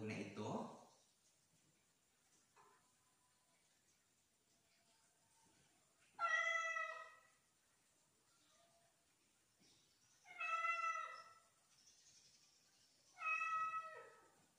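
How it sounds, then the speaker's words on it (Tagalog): A cat meows three times, each cry clear and drawn out, separated by quiet pauses of several seconds, with a brief voice at the start. "Ito ay iyak ng pusa."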